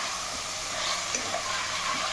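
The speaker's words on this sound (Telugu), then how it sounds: "దోసకాయ వేస్తున్నానండి. శుభ్రంగా కలుపుతున్నానండి." Cucumber pieces stirred into a pan of hot frying masala for a cucumber curry, giving a steady close sizzling hiss with soft scraping stir sounds throughout and no talking.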